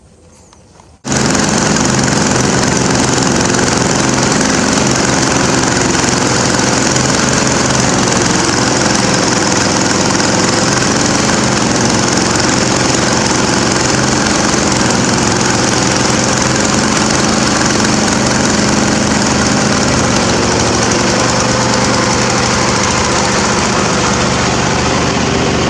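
A John Deere tractor engine roars steadily under load while pulling a van in a tug of war, a loud, continuous, close-up drone with no pauses.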